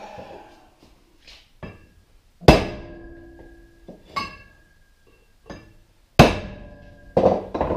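A big hammer strikes a front wheel bearing hub, landing about four sharp, loud metallic blows at irregular intervals, several ringing briefly. Lighter knocks and clinks fill the gaps.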